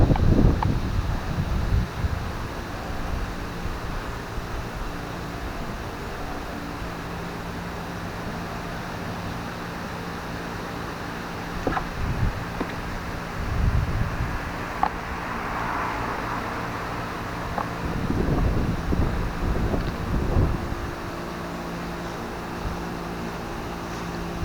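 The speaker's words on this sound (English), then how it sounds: "Very windy out." Strong wind outdoors at night beside an old house, with faint steady background noise broken by several short, louder gusts that buffet the microphone near the start, the middle and toward the end.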